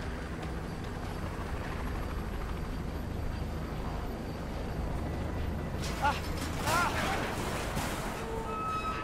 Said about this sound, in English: Chopper, let's get into cover.